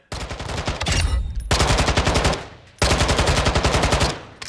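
Automatic weapon fire in Call of Duty Modern Warfare II, three loud sustained bursts of rapid shots separated by short gaps, close and punchy.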